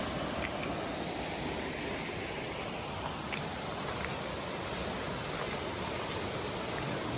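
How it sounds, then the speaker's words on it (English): A small waterfall on the Altsai River along the Great Glen Way pours in a steady, full rushing wash that holds unbroken from start to finish, with no voices over it. "Nice little falls here."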